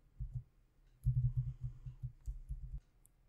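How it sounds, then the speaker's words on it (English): Keys on a computer keyboard typed in a quick burst of soft clicks, then a longer run of taps with brief pauses, close and quiet, as a command is entered; no talking. "Now type the next command."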